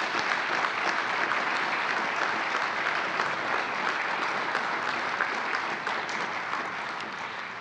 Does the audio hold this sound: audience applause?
yes